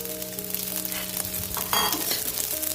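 Washed, soaked rice frying in a pan for vangi bhaat (brinjal rice) gives a continuous close sizzle with a brief burst of stirring near the end.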